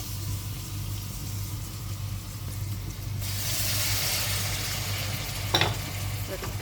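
Spiced cauliflower and dried fish curry sautés in a pan with a soft, steady sizzle that grows brighter midway, punctuated by a few stirring scrapes near the end.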